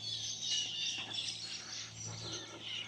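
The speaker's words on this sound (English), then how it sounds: "there's that tree with all the birds and that in it" Dense, high chirping and tweeting from a flock of birds in a tree beside Coronation Drive in Innisfail, Australia, a continuous chorus with a low steady hum underneath.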